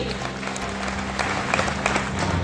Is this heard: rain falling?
no